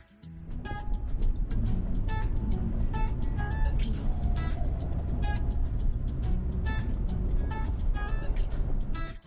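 A car travels along a dirt road toward the coast near Yeppoon and Emu Park, Queensland, its steady engine and rumbling tyre noise filling the cabin throughout, with repeated higher clicks and rattles over the drone.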